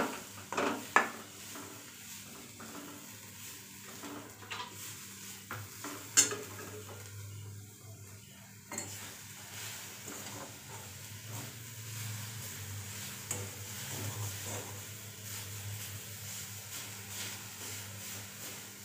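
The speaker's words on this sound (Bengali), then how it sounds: "খেজুর গুড় দিয়ে ভালো করে নারকেলটাকে আমি এবার ভেজে নেব" Grated coconut fries with date palm jaggery in a pan for dudhpuli pitha, giving a soft continuous sizzle under repeated scraping and stirring of a spatula against the metal, with occasional sharper clinks.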